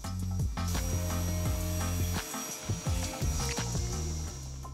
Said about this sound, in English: I'll get started by cutting the parts to size.